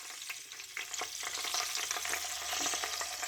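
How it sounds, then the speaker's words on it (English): Tomatoes fry in oil in a pan with a soft, continuous crackling sizzle, faint and close, with small pops scattered throughout and no voices. "the first thing to do is to put the tomatoes in the oil"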